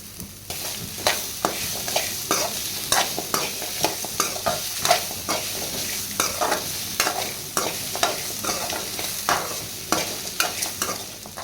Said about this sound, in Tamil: ஒரு 2 நிமிஷம் வெங்காயம் போட்டு வதக்குனதும் தேங்காய் துருவுனதை சேர்த்துக்கலாம்.